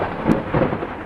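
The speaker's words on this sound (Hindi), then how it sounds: "बारिश लगातार हो रही थी।" A thunderstorm with heavy rain: a dense, loud roar of downpour mixed with low rumbling thunder, steady throughout with no voices.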